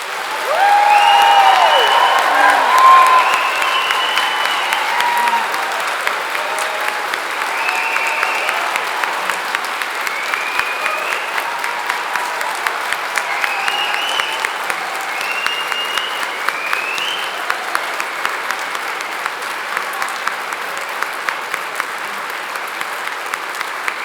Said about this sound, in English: giving our amazing graduates a huge round of applause